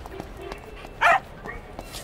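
A dog in the Tintin: Secret of the Unicorn video game gives one sharp, loud bark amid quieter yips and small thuds, with soft game ambience around it.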